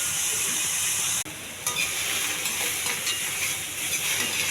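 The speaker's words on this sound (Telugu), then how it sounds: "ఇవి కొంచెం దోరగా వేగించాలండి" Beans cooking with ginger-garlic paste in a curry pan, frying with a steady, dense sizzle and hiss close by; a brief stir or knock near the start momentarily drops the sound before the frying continues alone.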